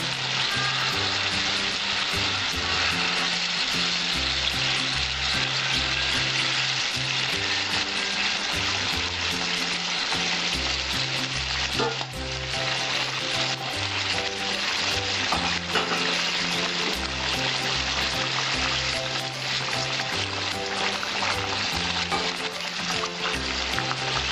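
Koi fish sizzle and fry steadily in hot oil for a traditional tel koi dish, a loud continuous crackling hiss with no pauses and no voices.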